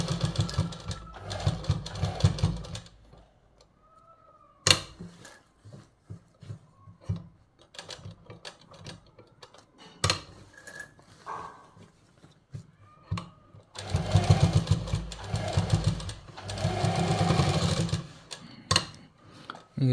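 A sewing machine stitches a pocket onto a kurta in short runs of rapid whirring broken by pauses, with scattered clicks and taps of handling between bursts.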